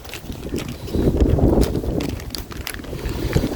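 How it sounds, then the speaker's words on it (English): Gusty wind buffets the microphone in low, rumbling bursts at an outdoor cemetery, with faint rustling and no voices. "it's a little windy"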